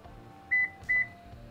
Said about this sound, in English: So it's beeping to register the key.